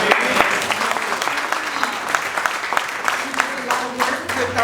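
An audience applauding a women's group facilitator at a domestic violence awareness gathering, dense steady clapping from many hands at moderate distance, sustained throughout with some voices mixed in.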